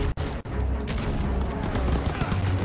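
Gunfire in a Call of Duty WW2 battle during Operation Cobra, machine guns firing from a barn: a burst of loud sharp shots at the start, then a dense rumbling wash of combat noise with shouting voices.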